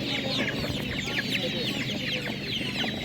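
Laying hens at a Ukrainian market cluck steadily and close by, their overlapping calls running across a busy background with faint voices underneath.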